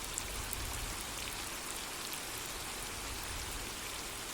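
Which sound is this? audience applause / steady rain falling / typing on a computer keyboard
steady rain falling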